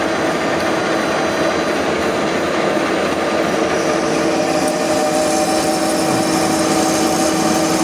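A metal lathe cuts a workpiece held in a steady rest, throwing off chips. It gives a loud, continuous machining whine and rumble with steady tonal hum, close and unbroken.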